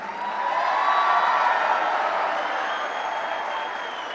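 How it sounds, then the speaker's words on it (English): A large audience at a Bronx borough president inauguration gives sustained applause mixed with cheering, a broad steady roar that swells then eases slightly without breaking. "Give yourselves a stronger round of applause."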